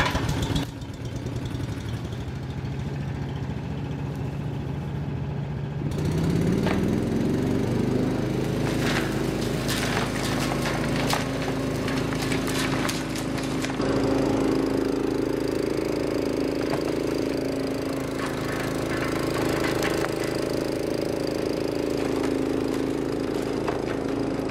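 A Little Wonder leaf vacuum, repowered with a new engine, fires up from cold and settles into a loud, steady mower-like drone, its pitch stepping up once it catches and then holding near and constant.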